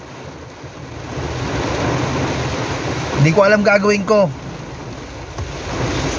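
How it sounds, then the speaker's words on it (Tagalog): Heavy rain pours steadily on a car from inside the cabin, with broad rushing noise throughout; a person speaks briefly over it midway. "sa sobrang lakas ng ulan"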